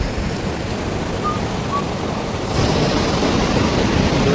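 Water rushes through the opened gates of the Musi dam in a continuous broadband roar that swells louder partway through, with no voices.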